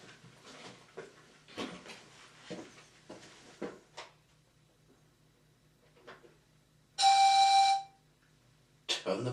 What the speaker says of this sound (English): When you hear 10 Cents' whistle or Sunshine's whistle,